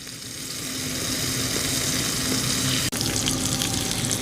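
Onion and a burger frying on a camp stove during an overnight hammock camping trip, a steady close sizzle that holds level throughout, broken by one brief click near the end.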